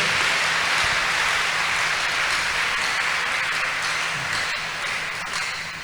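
Dense, steady applause from a church congregation fills the whole stretch, a loud continuous wash of many hands clapping together with no clear individual beats and only faint background tones underneath.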